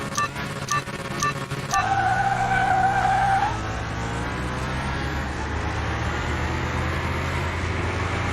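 Tires screech and skid as a Ford Mustang launches at a drag race start in the video game Car Mechanic Simulator 2021. A loud revving engine opens, then a sustained tire squeal fades into a steady engine drone.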